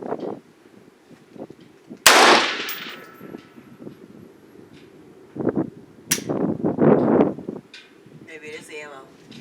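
A Springfield Armory Saint rifle firing 5.56 Aguila ammunition from a hex magazine gives two loud, sharp shots several seconds apart at an outdoor range, with muffled speech around them.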